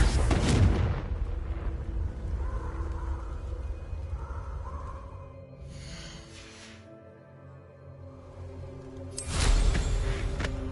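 A Confringo blasting spell goes off in a Harry Potter-style wizard game: broadband bursts at the start and again near the end, a loud boom with crackling tail, set against a steady ambient game bed.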